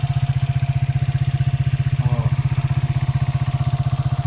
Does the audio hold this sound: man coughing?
no